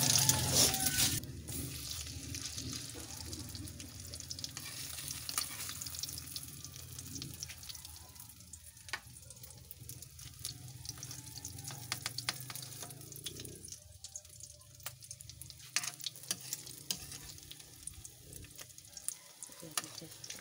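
Beef loaf browning in a frying pan, a steady soft sizzle running throughout with occasional light pops and scrapes, close by and moderately quiet, with no one talking.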